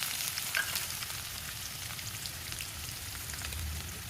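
Chopped onions fry with dried red chillies and curry leaves for a ridge gourd tomato curry, a soft, continuous oil sizzle with crackling pops, heard close and alone.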